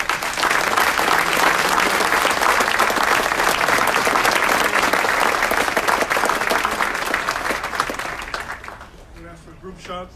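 Sustained applause from an audience at a city council meeting honoring a lieutenant's promotion, loud and dense for about nine seconds before thinning into scattered claps and faint voices.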